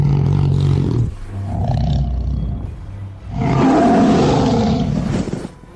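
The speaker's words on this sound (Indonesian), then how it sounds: "Benar-benar ada harimau." Tiger roaring loudly and close, in two long rumbling bursts separated by a short lull, with no talk over it.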